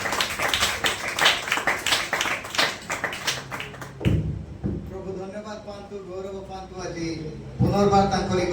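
A congregation at an Odia-language Sunday church service claps rhythmically for the musicians for about four seconds. The clapping stops and a single voice carries on speaking over the quiet room.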